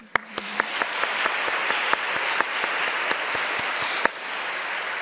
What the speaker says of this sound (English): May I have another round of applause for this committee?